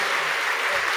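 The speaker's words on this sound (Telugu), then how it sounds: "చప్పట్లు కొట్టి దేవుని మహిమపరచండి." A church congregation claps together in praise, a dense, continuous burst of applause that fills the space with no talk over it.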